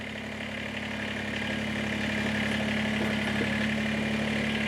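A Kubota tractor engine idles steadily at low revs as it creeps forward, a constant close, even rumble with no pauses.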